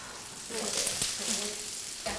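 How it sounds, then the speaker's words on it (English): Fish fries skin side down in a pan with olive oil, giving a loud, steady sizzle that fills the whole moment close up. "Put it in skin side down so that we get a nice crispy skin."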